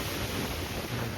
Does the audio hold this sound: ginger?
no